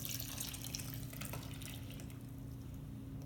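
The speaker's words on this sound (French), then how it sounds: "On enchaîne avec de l'eau." Water poured into a play dough mixture after vegetable oil, a steady close splashing stream running alone throughout without pause.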